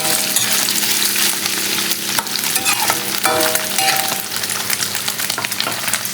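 Pork with shrimp paste stirred in a hot pan, a kilo of meat with half a kilo of paste rendering its fat, giving a steady loud sizzle broken by scraping stirs and a few clinks of utensil on metal.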